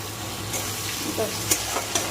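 Chopped onions, whole cumin seeds and bay leaves fry in hot oil with a continuous, close sizzle, broken by a few brief scraping stirs.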